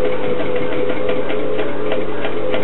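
A sewing machine running steadily while topstitching 1 mm from the edge during a zip replacement, a loud, close, continuous whirring hum with a fast, even stitching pulse.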